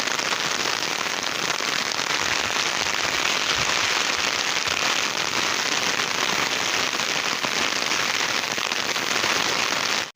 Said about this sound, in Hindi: खूबसूरत नज़ारे बारिश तेज़ होगी